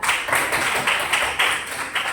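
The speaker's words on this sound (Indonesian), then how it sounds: "Beri tepuk tangan untuk kalian" Students in a classroom clap together in a steady, moderately loud burst, with repeated rhythmic waves of handclaps throughout and no talking.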